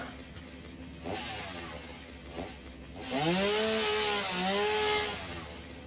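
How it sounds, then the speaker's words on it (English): A video game chainsaw starts up and revs loudly in rising and falling bursts while clearing, following softer sputters early on, with no talking. "I'm gonna grab my old chainsaw here."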